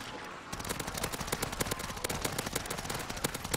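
Rapid bursts of shots from a free legendary burst pistol in MW3 Zombies, a Call of Duty video game, firing in quick, regular cracks one after another, close and loud, after a brief quiet start.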